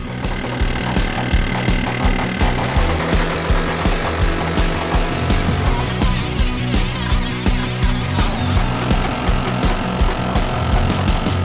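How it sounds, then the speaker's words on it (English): Pneumatic air hammer working on the suspension of a Honda Civic, a loud rapid mechanical chatter in repeated rhythmic bursts, close up and without talk. "let's go ahead and get the air hammer out and see what we can do"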